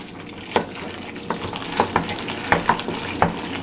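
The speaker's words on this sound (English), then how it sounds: "We'll mix all of that up." Ingredients for baked lobster macaroni and cheese being stirred in a saucepan, a soft sizzle with irregular scraping spoon strokes, close and alone.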